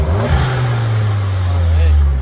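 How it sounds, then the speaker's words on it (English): A 2021 Volkswagen Jetta GLI fitted with an APR intake revs from idle, a deep engine note rising and swelling close by, heard from the front end with a voice talking over it. "I'm going to give it a rev."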